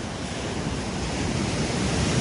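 Rough sea waves crash on the shore in stormy weather, a dense, steady roar of surf and wind noise with no talk.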